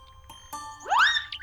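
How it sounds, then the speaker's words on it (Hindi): A house doorbell rings once in a Hindi 3D animated story, a short bright rising chime that sounds clear and alone against a quiet background. "बार बार घंटी बजाने के बाद भी घर से बाहर कोई नहीं निकलता"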